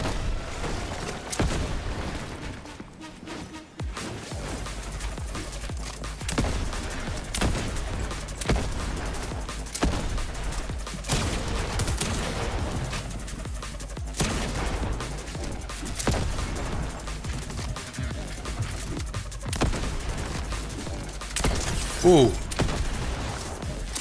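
Repeated explosive repeater shots and blasts in a Fortnite match with gold weapons, arriving as scattered booming bursts across the whole stretch, loud and close amid game noise.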